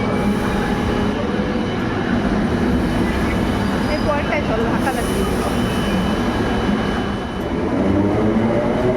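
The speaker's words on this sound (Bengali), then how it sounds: "চলে গেল মেট্রো" A metro train rumbles steadily past close by, a continuous loud roar of wheels and carriages, with people talking faintly over it.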